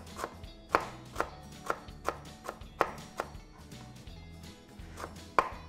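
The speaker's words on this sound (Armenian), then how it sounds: "այս վերջույթները էլի կտրատում եմ" A knife chops fresh green herbs, trimming their thick stem ends on a board. The crisp chops come close up at an uneven, brisk pace, with no voices.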